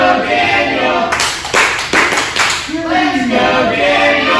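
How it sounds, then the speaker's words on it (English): A pro wrestling crowd claps in rhythmic bursts and cheers loudly in an indoor venue, with chanting voices rising over the applause. "The crowd clearly behind Daniel Eads"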